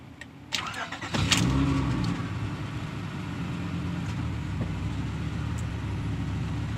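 Car with 243,321 miles on it starts up and settles into a rough, uneven idle, with a low steady engine drone close by and a few faint knocks over it.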